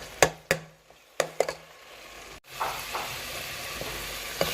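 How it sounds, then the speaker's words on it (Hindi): Spinach cooked with cream sizzles gently in a pan, a steady frying hiss broken by several sharp clinks and scrapes of stirring, with no voices. "अब हम इसको थोड़ा सा 5 मिनट और भूनते हैं।"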